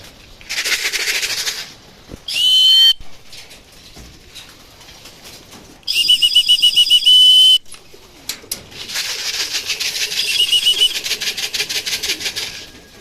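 A racing pigeon at a training loft coos close by in several repeated bursts, mixed with short rattling flutters of wings and quieter gaps between.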